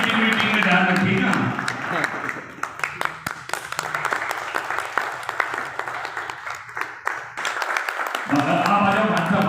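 Crowd at a political rally breaks into loud, sustained applause, dense rapid clapping that fills the scene, dips slightly in the middle and swells again toward the end.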